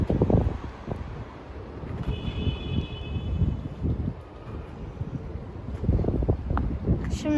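Wind gusting outdoors in a garden during a backyard football challenge, a steady rumble of microphone buffeting that rises and falls over several seconds, with faint voices mixed in.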